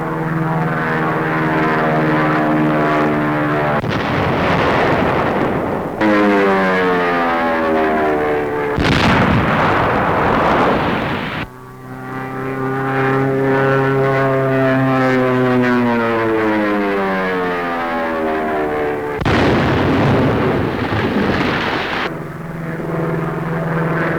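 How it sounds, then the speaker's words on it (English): Navy propeller planes roar low overhead, their engine drone rising and falling, with several loud bursts from gasoline jelly bombs exploding in enemy-held hills. "Navy planes come over enemy positions in the hills. Gasoline jelly bombs fall."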